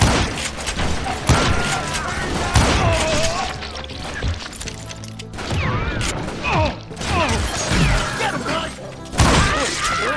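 Gunfire in the Western shooter Call of Juarez: Gunslinger, scattered shots and impacts over ten seconds amid game effects, with a voice talking over the action.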